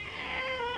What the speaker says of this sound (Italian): Ma cos'è sto miau proprio tu che non chiacchieri mai?